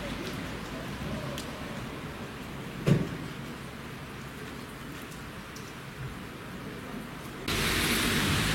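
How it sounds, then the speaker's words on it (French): Steady thunderstorm rain hisses throughout, heard from under the belfry arcades in Bergues, northern France, with one brief louder knock near the middle and the downpour growing heavier toward the end. "Le temps de déjeuner et zou, un sacré orage a éclaté."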